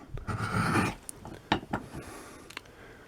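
A drill bit is rubbed against a sharpener, producing a close, gritty rasping stroke followed by a few short scrapes and mechanical clicks as it is twisted and repositioned.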